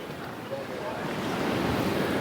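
Ocean waves wash steadily onto a beach in Málaga, a broad continuous surf rush mixed with wind buffeting the microphone, rising slightly toward the end, with no voices.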